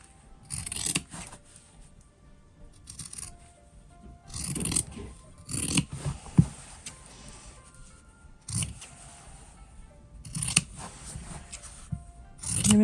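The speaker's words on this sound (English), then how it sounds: "and you cut around this." Scissors snip through fabric while a simple sewn wallet is trimmed, several short bursts of cutting spaced a couple of seconds apart, close and fairly quiet with no talk.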